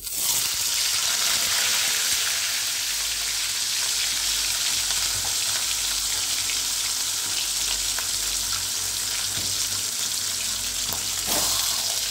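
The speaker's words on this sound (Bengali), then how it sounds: "মুড়োগুলো একটু কড়া করে ভাজা হোক।" A live rohu fish head, rubbed with salt and turmeric, fries in hot oil until crisp, giving a loud, continuous close sizzle and crackle with no speech.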